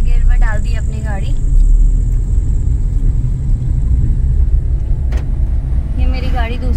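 A car driven in second gear gives a steady, loud low engine and road rumble throughout, with someone talking over it near the start and end.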